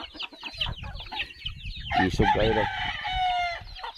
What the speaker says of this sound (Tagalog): Mo man ako kani upat man ka manok kung kanang puti ug pula, ug kanang itom.